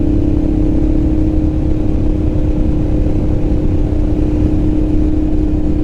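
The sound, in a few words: Honda NT650 motorcycle riding at speed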